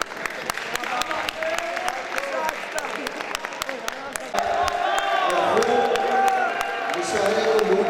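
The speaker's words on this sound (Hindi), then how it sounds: "ताली मार लो।" Audience clapping at a college mushaira poetry gathering, steady crowd applause with sharp individual claps, swelling louder partway through as voices mix in underneath.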